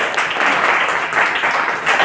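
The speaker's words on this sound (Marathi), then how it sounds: "याच्यासाठी एकदा आपण जोरदार टाळ्या" Loud, continuous clapping from a lecture audience at a Marathi literature talk, many hands blending into a dense rolling wash for the whole stretch.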